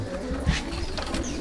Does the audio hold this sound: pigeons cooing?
yes